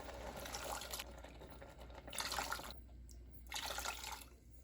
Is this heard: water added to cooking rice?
yes